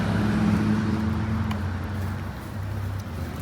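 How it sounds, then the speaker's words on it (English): A car passes on a road during a dog walk, a steady low engine and tyre rumble holding close and fairly loud for a few seconds without any talk. "Car coming, come on, buddy."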